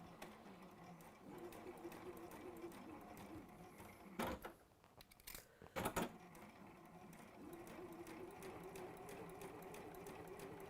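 A sewing machine stitches appliqué fabric down in a steady mechanical whir, broken by a short pause and a couple of brief louder bursts before the even stitching resumes.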